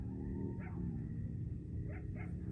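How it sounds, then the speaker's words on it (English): Coyotes yipping faintly in the distance on a night outdoors in a garden, a few short high yips over a low steady background hum. "I can hear the coyotes."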